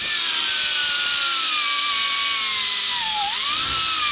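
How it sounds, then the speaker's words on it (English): A die grinder cutting through an old wheel bearing race on a trailer hub screams with a loud, continuous high-pitched whine that dips in pitch under load before rising again. "I'm gonna take the die grinder and fillet that guy in half"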